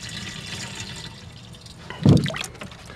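Rainwater is poured into a jug holding a small measure of fertiliser, making a short burst of splashing and gurgling near the end that follows a quiet, hissy stretch.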